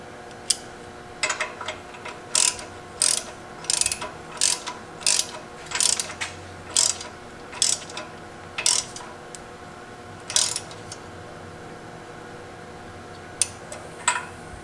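A fitting for an EGT probe is threaded by hand into the exhaust manifold of a Ford 7.3 Powerstroke, giving a steady run of sharp metallic ratcheting clicks in quick bursts with short pauses, close by and fairly quiet, with no talking.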